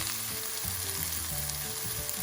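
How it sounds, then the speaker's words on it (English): Tomato frying in a pan makes a soft, steady sizzle throughout, with a faint background hum. "Now 5 minutes fry tomato"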